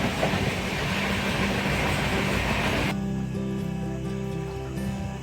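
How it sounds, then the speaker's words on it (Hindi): Kashi Patna Jan Shatabdi Express moving slowly through dense winter fog, with a steady rumble of rolling wheels and carriage noise heard from on board, loud and continuous with no voices. "कोहरा काफ़ी घना लगा हुआ है, जिसके कारण ट्रेन अपनी पूरी गति सीमा के साथ नहीं चल पा रही है।"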